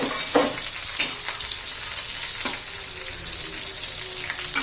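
Green chillies frying in a pan over a gas flame, a continuous close hiss of sizzling oil with a few soft stirring knocks, steady and loud, no talking.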